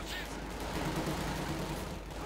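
Gunfire and an MG42 machine gun in the strategy game Company of Heroes 2 during a 1v1 match, a dense, moderately loud crackle of shots throughout a brief stretch.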